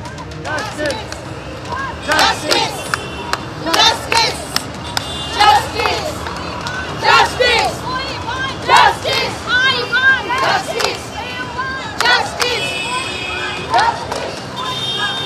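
Doctors and health workers chant slogans in a loud crowd along EM Bypass, the voices rising in rhythmic bursts of shouted call and response with short pauses, mixed with scattered clapping.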